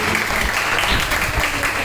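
Loud, dense applause from a gathered crowd at a charitable trust event, a thick continuous wash of clapping at close range without a break.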